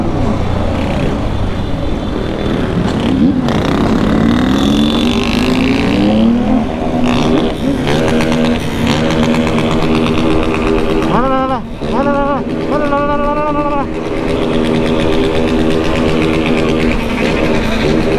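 Motorcycle engine with a slipping clutch, revving and droning steadily with rising and falling pitch, amid a busy crowd with people talking throughout.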